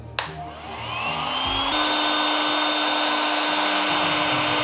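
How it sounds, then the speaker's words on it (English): A 600-degree heat gun blowing hot air on a sculpted figure, kicking on with a click and settling into a loud, steady whooshing whine that holds unbroken to the end with no talk. "So this is a heat gun. It can heat up to 600 degrees."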